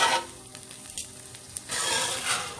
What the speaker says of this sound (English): Now our peppers and onions have sauteed. So I'm going to remove them from the pan here.